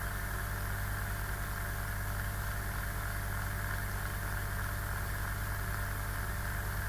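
A Kubik coil toy spins with a constant, even mechanical whir and low humming drone, unchanging in level from start to finish, with no voices.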